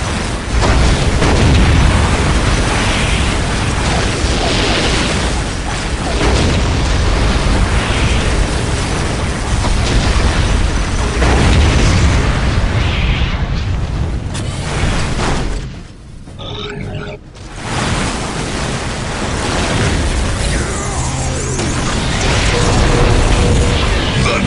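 An airstrike in the Warhammer 40K game Dawn of War Dark Crusade sets off loud, dense rumbling blasts that go on almost without pause, with a brief lull partway through before the booming explosions return.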